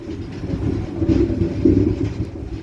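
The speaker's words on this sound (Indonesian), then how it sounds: "Sebelah kita ada idle rangkaian KA Argo Cirebon dan KA Ranggajati." Steady low rumble and hum of idling passenger trains, the Argo Cirebon and Ranggajati sets, heard at Cirebon Kejaksan station from a departing train, continuous and moderately loud with no voices.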